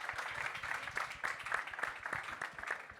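An audience at a conference session on Copernicus Contributing Missions claps steadily, moderately loud, continuous applause with a distinct patter of individual hands and no speech.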